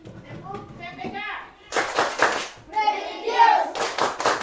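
A class of schoolchildren in an Indonesian classroom does a rhythmic clapping chant, with bursts of sharp unison claps mixed with chanted voices, loud and close after a teacher's spoken lead-in.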